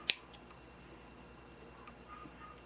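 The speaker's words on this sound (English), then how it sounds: "you're just going to cut off the excess" Scissors snipping off excess twine on a handmade cuff link gift package, two quick quiet snips close by at the start, then near silence.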